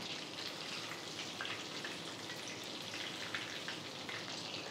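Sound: chicken deep frying in oil

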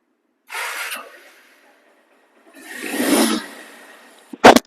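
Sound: second-hand double disc motorcycle engine running

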